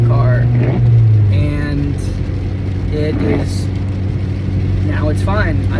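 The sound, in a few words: 2013 Honda Civic transmission noise while driving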